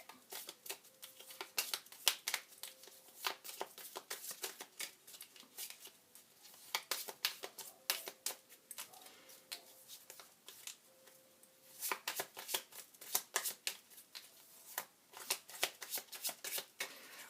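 Tarot cards being shuffled by hand, a series of quiet, close riffling and slapping bursts in an uneven rhythm with soft music faintly in the background.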